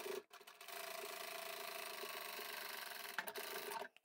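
A sewing machine stitching fabric for a jar opener, a steady mechanical whir running continuously for a few seconds between brief pauses at start and end.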